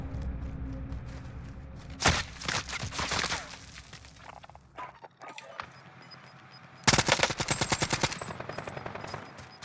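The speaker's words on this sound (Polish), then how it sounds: "Naprawdę słabo się z tego strzela." Gunfire from a weapon in a video game: two bursts of rapid automatic shots, the second louder and longer, separated by a quieter stretch with scattered single shots.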